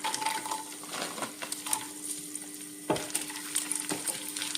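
Steady sizzling of peanuts and raisins frying in hot ghee, with occasional stirring scrapes and clicks against the pan, close up and without talk.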